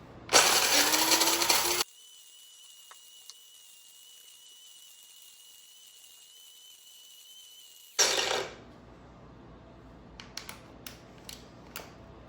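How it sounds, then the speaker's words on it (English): An electric coffee grinder grinds beans to a coarse setting for cold brew in two loud, close bursts, the first about two seconds long and the second brief, with a low hum and a few small clicks between them. "And you want it very coarse in your cold brew. So a lot basically fills it up. And then you grind. This part's gonna be noisy."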